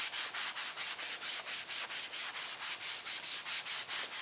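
A car body panel is scuffed by hand with an abrasive pad to scratch it before painting, a steady rhythmic back-and-forth rubbing of about four strokes per second, close and even, with no talking.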